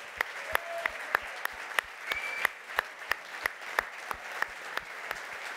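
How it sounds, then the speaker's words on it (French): Sparse applause at a supply chain directors' gala, a handful of distinct, evenly spaced claps from a few people, fairly close, over a low room hum. "un tonnerre d'applaudissements pour Tatiana"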